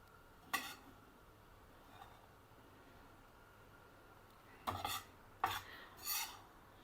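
Sarson ka saag with maize flour is stirred in a clay pot (matti ki handi), with a few quiet scraping, rasping strokes against the pot and faint background noise between them.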